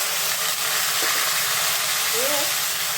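Chili, tomato and ginger paste goes into hot oil already seasoned with cumin seeds and bay leaf for a sweet pumpkin dhoka curry, giving a loud, continuous hiss and sizzle that fills the whole stretch, close and steady, with faint voice traces underneath.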